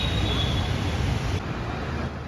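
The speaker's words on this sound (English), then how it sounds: "the metro station's name is Lower Oshiwara Metro Station" A metro train at Lower Oshiwara Metro Station in Andheri rumbles steadily along the elevated track, with a faint high wheel squeal and a slight drop in noise partway through.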